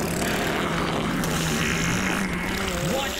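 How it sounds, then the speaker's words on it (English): A cutscene airplane from Super Smash Bros. Brawl's Subspace story drones with a continuous engine hum. Slow pitch sweeps rise and fall under a busy game soundtrack. "That's the weirdest airplane."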